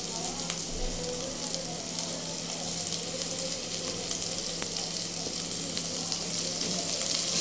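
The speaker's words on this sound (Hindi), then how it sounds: "तो इसी तरीके से थोड़ी देर शिमला को भी इसी तरह भूनना है" Chopped capsicum frying in oil with ginger and garlic in a pan, giving a steady close sizzle with occasional soft stirring clicks and no voices.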